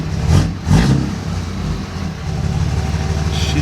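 Third-generation Cummins diesel pickup engine running after a Smarty Touch programmer tune, a steady low rumble with two brief throttle swells near the start before settling into an even drone.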